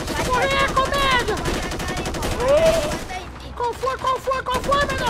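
Rapid bursts of automatic gunfire from a GTA V gunfight, sharp repeated cracks in quick succession, with excited voices shouting over the shooting.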